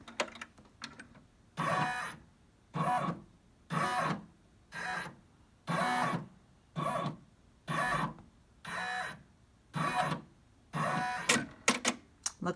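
A Brother PR655 embroidery machine stitching a test run on a beanie, humming in regular one-second bursts with short pauses between, close and steady, with faster clatter near the end.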